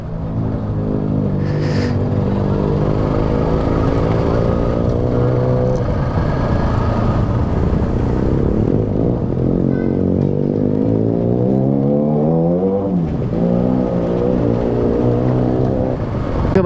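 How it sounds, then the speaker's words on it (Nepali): A loud Benelli TNT 302 motorcycle engine revs close by, its rumbling note rising and falling through repeated throttle blips with a rough, clattering edge, and no voices over it. "त्यो बाइकले चाहिँ औडै आवाज फाल्ने."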